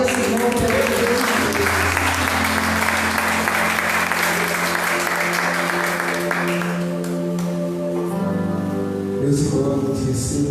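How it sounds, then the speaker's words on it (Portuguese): A church congregation gives sustained loud applause, many hands clapping steadily for several seconds while music plays underneath, the clapping thinning toward the end. "Vamos aplaudir ao Senhor pela igreja."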